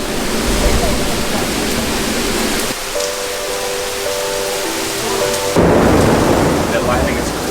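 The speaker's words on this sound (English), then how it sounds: "Oh my gosh, I have not heard thunder and lightning that loud before." A heavy thunderstorm rolls close by with a loud, continuous roar of thunder and rain that surges, briefly eases, and then swells again, with a faint tonal sound in the quieter middle stretch.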